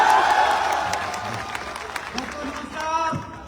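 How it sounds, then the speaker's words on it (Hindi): An audience at a Hindi motivational talk on Ayurveda bursts into applause, a dense wash of clapping that fills the whole few seconds, with voices mixed in underneath. "ऐसे ताली होनी चाहिए अपने देश के लिए।"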